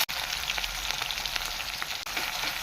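Ginger and green chillies hit hot coconut oil after mustard seeds have popped, giving a dense, even sizzle that stays close and steady for a couple of seconds, with a faint click or two.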